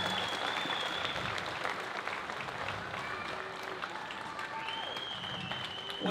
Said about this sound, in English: Please, round of applause for Taualuga Productions